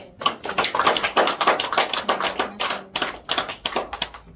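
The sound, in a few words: audience applause for a lecturer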